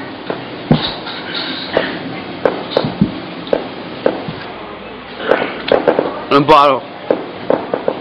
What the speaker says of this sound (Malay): Masa ni lah bunyi merecun, bunga api semuanya ada.